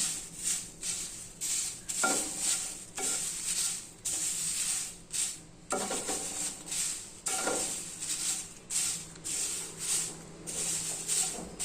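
Dried curry leaves are dry roasted in a pan, with a light spatula scraping and stirring in a steady rhythm over a soft, constant crackling hiss, close by and fairly quiet.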